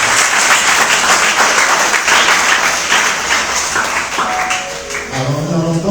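A church congregation applauds and cheers in praise of the Lord, sustained clapping filling the hall, with a few raised voices mixed in.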